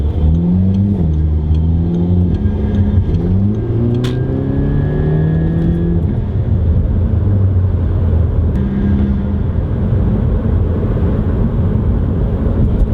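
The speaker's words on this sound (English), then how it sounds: "I'm gonna burn so much gas now just to hear boosty noises." An Audi A3 8P engine with a new intake revs up through several rising pulls, loud and close, settling into a sustained roar with a faint boost whistle above it.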